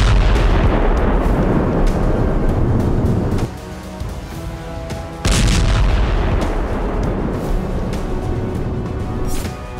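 Land mines detonate in a Russian forces test, giving heavy booming blasts with a deep rumbling roar that drops off briefly midway, then another loud burst and sustained rumble.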